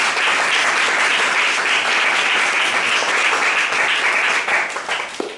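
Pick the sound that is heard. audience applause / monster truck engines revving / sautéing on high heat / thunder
audience applause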